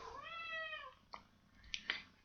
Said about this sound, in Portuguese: A minha gatinha está a chamar por mim.